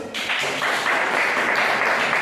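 A classroom of students breaks into brief applause, a short burst of mixed claps heard close and fairly loud.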